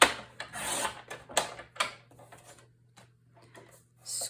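Cardstock paper is cut with a paper trimmer, a few quick scraping and slicing strokes up close followed by quiet handling, with no talk.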